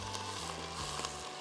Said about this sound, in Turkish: Soğanı güzel güzel tencerenin dibinde kavurduk.